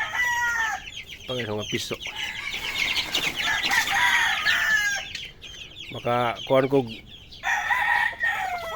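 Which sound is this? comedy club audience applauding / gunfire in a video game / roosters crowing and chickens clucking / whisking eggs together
roosters crowing and chickens clucking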